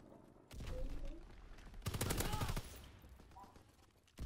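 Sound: gunfire from video game Call of Duty WWII

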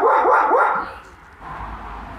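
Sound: neighbor's dog barking

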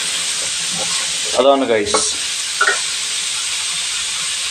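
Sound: crab masala ingredients sizzling in coconut oil while stirred

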